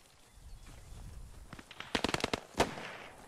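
Gunfire in the World War II shooter Post Scriptum: a quick string of sharp shots followed by a single louder crack, moderately close, with no talk over it.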